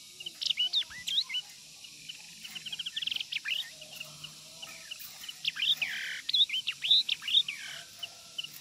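A yellow-eyed hwamei songbird sings rich, rapid whistles and slurred notes in short bursts with gaps between them. The bird sounds close but not loud, over a soft background.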